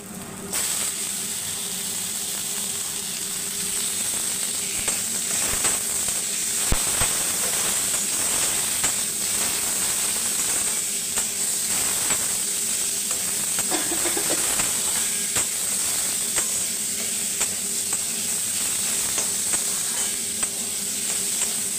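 Meat sizzles in a hot pan at the start of a soup, a steady, loud frying hiss that runs unbroken from start to finish with faint scattered pops and clicks.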